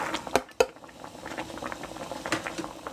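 Green curry chicken with long beans, lime leaves and chili simmering in a pot over medium heat, a soft steady bubbling broken by a couple of sharp knocks from a utensil against the pot early on.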